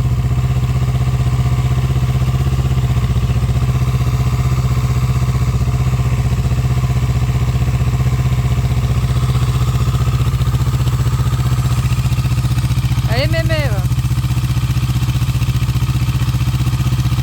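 Yamaha R6 motorcycle with an Akrapovic exhaust running just after startup, a steady loud engine drone at high idle with a brief rising rev near the end, close and without talk.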